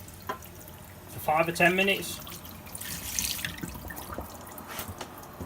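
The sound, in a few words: water running through a carbon filter for an aquarium water change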